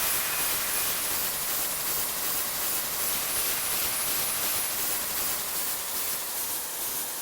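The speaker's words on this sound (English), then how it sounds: "Takeoff" Jet engines of a Lufthansa Airbus A340 roaring steadily through takeoff from Tokyo Haneda, a continuous broadband rush and hiss at even loudness with no talk.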